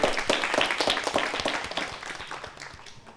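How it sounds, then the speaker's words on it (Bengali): Studio audience clapping for the winner of a televised quiz competition, a dense burst of close, sharp claps that gradually thins and fades over a few seconds, with no voices. "তার জন্য একটি করতালি"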